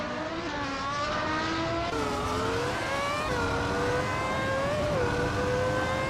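AI-driven race cars in a virtual racing video game rev hard and continuously, their engine notes climbing and shifting in layered whines as several cars run together, loud and close with no talk.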